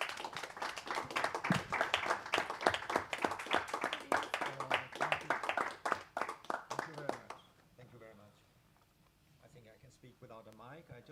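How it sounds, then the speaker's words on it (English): Audience applause at a European diaspora conference, a dense run of clapping mixed with speech for about seven seconds before fading to quiet room sound. "Please, a round of applause to Steen."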